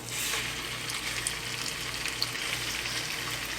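Ground beef sizzles steadily in an oiled pan on the stove, a continuous close frying hiss with a faint low hum beneath and no talking.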